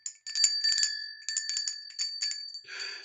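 A homemade bell with a small nut hanging on a string inside rings in a quick series of bright, close metallic strikes, then ends with a short rustle.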